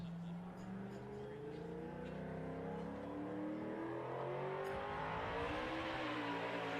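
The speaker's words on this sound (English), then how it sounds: "ripping that truck up for 2 laps just to make sure that thing is ready to go" A race truck engine revs hard and roars steadily on a short-course race track, its pitch rising and falling as it accelerates nearby, with a faint voice underneath.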